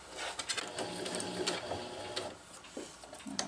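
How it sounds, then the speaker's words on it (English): A sewing machine stitching tie-out tabs onto a jungle hammock, close and rapid, in short bursts of mechanical chatter with brief pauses and small clicks between runs. "So I have my little tabs here ready to sew"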